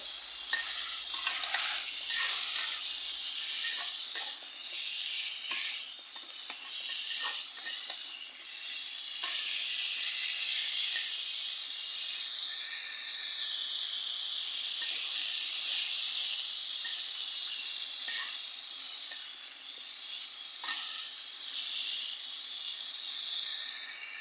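Vegetable stems and potatoes fry in spiced masala, a steady close, loud sizzle running throughout, with occasional stirring scrapes and no talking.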